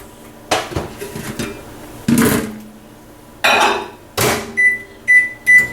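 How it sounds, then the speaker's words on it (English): Microwave oven melting milk chocolate chips in a microwave-safe bowl: clattering door and bowl handling, thuds of the door shutting, then several short sharp beeps of the keypad, close and clear. "I'm going to put them in the microwave for 30 seconds."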